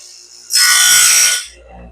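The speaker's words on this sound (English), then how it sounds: "sharpening the Stellicut, making this band so it will cut again, not doing the gullet" A Norwood Stellicut bandsaw band has its cutting edge sharpened, giving a single loud, close grinding rasp of about a second that fades into a low hum.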